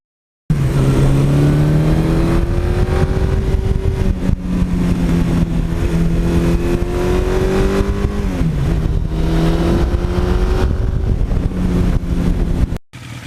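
A 1982 Suzuki GS1100E motorcycle's engine idles loudly close to the mic, then is revved in several rising and falling pulls with a sharp dip midway, steady and strong until it cuts off abruptly at the end.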